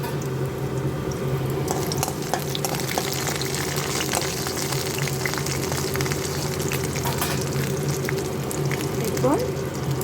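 Grated coconut fries in hot oil tempered with cardamom and cloves, giving a steady, close sizzle with faint crackles and stirring, while a person talks over it.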